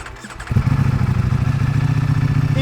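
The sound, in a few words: Ducati Streetfighter V4S motorcycle engine starting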